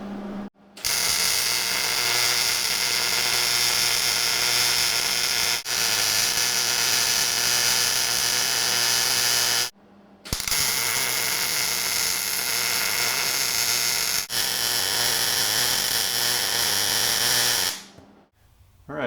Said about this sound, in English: If you're going to be welding 1/4 inch with the 115 volt welder, I would recommend doing several passes.